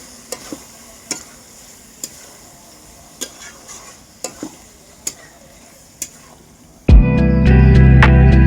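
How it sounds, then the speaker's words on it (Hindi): Fish being mixed and fried in a pan: soft sizzle with sharp spoon-against-pan ticks about once a second, then a loud, sustained tonal sound abruptly takes over near the end. "मिला के थोड़ा सा भून लेंगे।"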